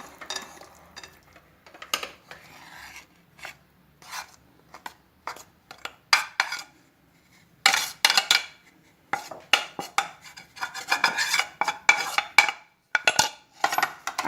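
Vanilla cupcake batter is beaten by hand with a spoon in a bowl, giving irregular scraping and clinking strokes against the bowl that come in bursts and grow busier toward the end, with no talking.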